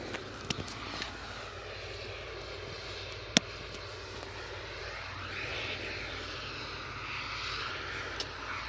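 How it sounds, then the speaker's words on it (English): EasyJet jet airliner engines spooling up at an airport, a broad roar with a rising and shifting whine, heard from a distance under a few faint clicks and handling bumps. "EasyJet is now on the spool up."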